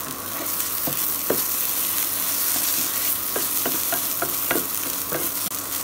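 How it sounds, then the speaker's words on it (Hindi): Okra (bhindi) spread out frying in a pan, a loud, steady sizzle and crackle with sharp spatula taps and scrapes against the pan scattered throughout. "भिंडी को इस तरह पैन में फैलाकर रखें ताकि वो जल्दी क्रिस्प हो।"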